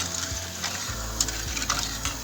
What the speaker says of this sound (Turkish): İyice pembeleşene kadar kavuracağım ben.